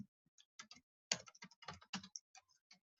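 Someone types on a computer keyboard at close range in a quiet room, producing quick irregular bursts of light clicking keystrokes with brief pauses.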